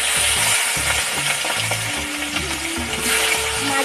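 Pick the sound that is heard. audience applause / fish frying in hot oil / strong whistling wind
fish frying in hot oil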